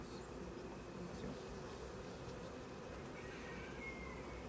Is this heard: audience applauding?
no